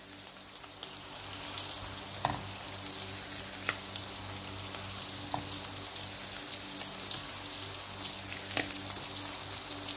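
Sliced onion fries with lamb kidney in a pan, making a constant hissing sizzle with scattered small pops and spits throughout.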